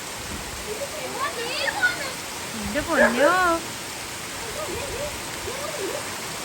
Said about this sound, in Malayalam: മഴ നല്ല രീതിയിൽ മുറുകുന്നുണ്ട് ഒട്ടും മഴ കുറയുന്നില്ല